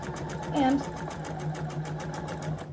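A sewing machine stitches a quilt block seam with a steady, rapid mechanical whir and rhythmic needle ticking throughout, close by, while someone talks over it.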